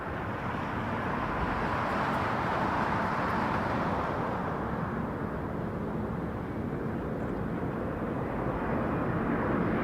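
A Boeing 787 Dreamliner airliner at Toronto Pearson Airport gives a loud, steady jet roar that stays broad and unbroken throughout, with no talking.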